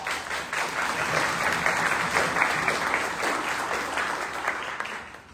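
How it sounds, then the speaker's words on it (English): Audience applause at a livestreamed event, steady clapping from a modest crowd that swells briefly and then fades out toward the end. "Let's give them a round of applause."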